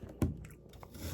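Someone takes a sharp crunching bite of an apple, then chews it close up with soft, moist crunches continuing briefly afterward.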